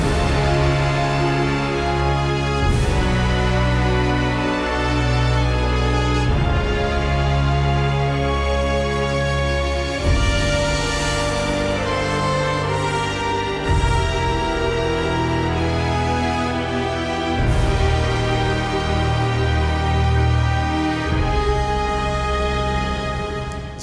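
Orchestral sample library music from the game LittleBigPlanet 2, a full, loud ensemble playing steadily with sustained chords and several sharp accented hits, no talking.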